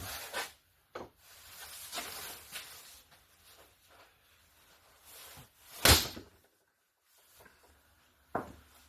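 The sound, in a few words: 14-pound sledgehammer striking a copper poker chip die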